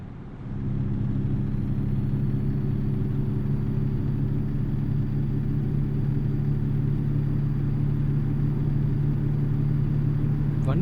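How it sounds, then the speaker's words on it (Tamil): In the video game American Truck Simulator, a truck engine hums as the vehicle drives down a road. The low, steady drone rises in at the start and then holds constant. "வண்டியோட சவுண்டு பாருங்க"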